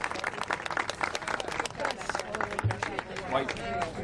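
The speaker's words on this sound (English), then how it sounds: "Clap it up." A crowd at an abortion rights protest in Washington, D.C. claps after a speech, scattered clapping and cheering mixed with crowd chatter and nearby voices talking.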